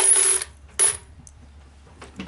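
Slot-machine coins, slightly larger than quarters, drop into a 6-coin coin acceptor with two bright metallic clinks, then fainter rattling near the end, close-up and without speech.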